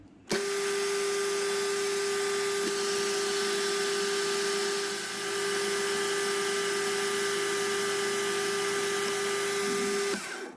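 Metal lathe turning down a steel diameter, a loud steady machine whine with a strong constant tone and broadband cutting hiss running unbroken for about ten seconds, dipping slightly midway.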